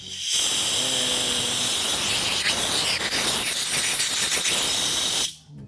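Compressed air blasting through the inlet valve of a Brocock Compatto air rifle via a probe, a loud continuous close hiss lasting about five seconds before cutting off abruptly.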